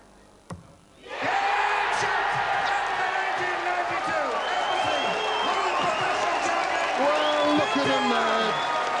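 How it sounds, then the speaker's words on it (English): Arena crowd at a darts world championship final rising into loud, sustained cheering and applause after the deciding double, a big roar that swells up after a brief quiet start and carries on steadily to the end. "Standing, cheering."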